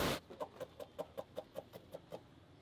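Chickens on a farm in Goma give a rapid series of about a dozen evenly spaced soft clucks after a brief burst of noise, fairly faint and close.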